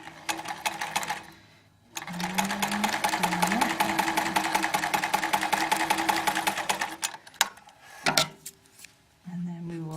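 A sewing machine stitches quilt fabric for half-square triangles in rapid close bursts, running steadily for several seconds, pausing, then starting again in short runs.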